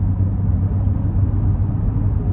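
A BMW 218i Gran Tourer's three-cylinder engine idling quietly and smoothly, a low steady rumble heard from nearby outside the car, with no voices.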